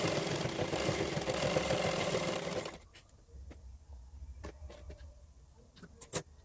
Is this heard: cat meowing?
no